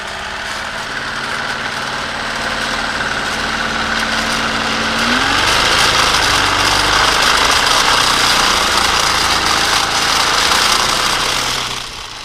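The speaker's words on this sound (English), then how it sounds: "We got the Haynes turbine engine." A plastic Haynes model jet turbine engine runs with a steady rushing whine that climbs in pitch partway through, turns louder and more forceful, then fades right at the end.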